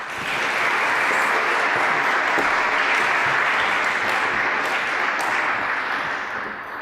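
An audience welcoming speaker Pauline Schneider with steady applause, loud and dense clapping from a full room that holds evenly throughout and begins to taper at the very end.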